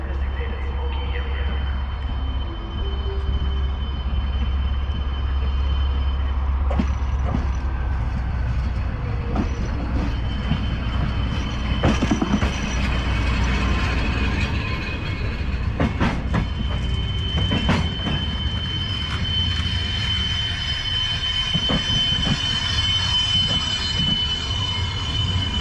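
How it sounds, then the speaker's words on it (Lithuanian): The Vilnius–Turmantas passenger train pulls into a Lithuanian station, starting with a heavy low rumble, then rattling wheels and squealing brakes as it slows close by, while people talk nearby. "Ir atvyksta mūsų traukinys Vilnius Turmantas."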